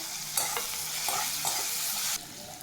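Spices frying in a pan for a jackfruit and lentil chilli dish, a steady close sizzle with a few stirring scrapes, running alone until it cuts off near the end.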